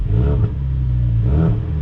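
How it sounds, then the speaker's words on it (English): A 2017 Ford Focus RS exhaust revs hard twice, a deep throaty roar rising and falling with a brief dip between bursts, loud and close. "this awesome sounding exhaust this car has"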